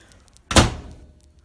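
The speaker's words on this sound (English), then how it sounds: "let's shut the door and open it again" A door is shut with one sudden, heavy thud that rings out briefly and fades, close and loud against an otherwise quiet room.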